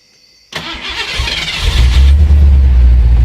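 A Ford Mustang engine cranks and catches, then settles into a loud, steady low rumble close by, with no one speaking.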